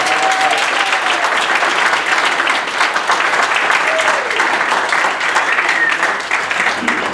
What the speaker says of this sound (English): I'm quite sure you can give him a much better round of applause than that.